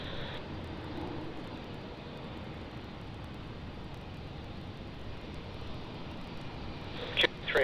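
A Dash 8 airplane taking off at Brisbane Airport, a steady, faint distant engine roar held through the whole stretch, with a brief louder bump near the end.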